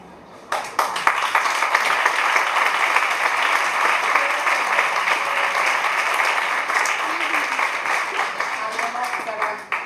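An audience applauds at the close of a theatre panel discussion on dramaturgy and diversity: loud, dense clapping bursts in after a brief pause and carries on steadily until the very end.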